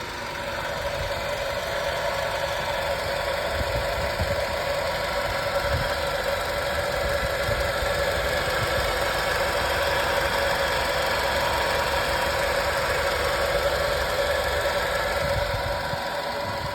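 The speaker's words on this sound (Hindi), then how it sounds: "कोई लोहे का पार्ट, लोहे के पार्ट से घिस रहा है, ऐसी आवाज आ रही है" A Maruti Suzuki car engine idles steadily with a constant low rumble and a faint, rough metallic scraping of metal parts grinding against each other running through it, close and unbroken.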